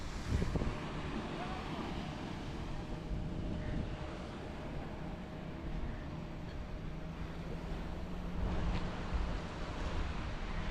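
Ocean surf rolls onto Anjuna Beach in Goa as a steady, broad wash of waves mixed with gusty wind rumbling against the microphone, holding at an even, moderately loud level throughout.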